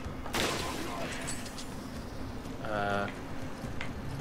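Gunfire from the video game Resident Evil 5 comes as a couple of brief cracks, one sharp shot near the start and another burst later, amid game ambience and a voice speaking.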